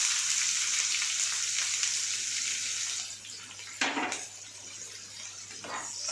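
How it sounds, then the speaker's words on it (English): Onion and green chili pieces hit heated oil for a mushroom cashew curry and fry with a steady, loud hiss. The sizzle eases a little partway through, and brief scraping stir sounds break in near the end. "Now the oil is heated. Add onion and green chili pieces."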